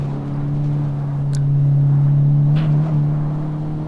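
A Honda Civic Type R in the racing game Assetto Corsa on the Nürburgring hums steadily at low speed, with brief high turbo whistles cutting in over the engine drone.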